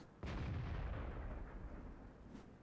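A self-propelled artillery gun firing in World of Tanks: one heavy, booming shot with a low rumbling blast that lingers and slowly decays, heard up close with no talk.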